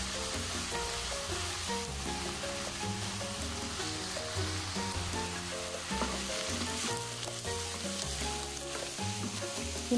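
Minced garlic hitting a hot pan in a home kitchen for a vegetable spring roll filling, giving a steady, close sizzle that runs the whole time beneath loud melodic background music.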